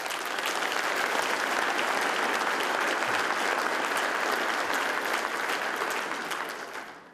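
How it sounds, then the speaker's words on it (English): An audience at a State of the City address in Aurora, Colorado applauds the city council in a sustained, dense round of clapping that holds steady for several seconds and then tapers off at the end. "warm round of applause"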